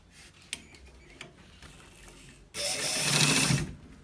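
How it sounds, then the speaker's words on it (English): A sewing machine runs in one loud burst of about a second, stitching a V-neck on a men's kaftan, after quiet handling clicks and rustles, with no talk. "we are done stitching this part."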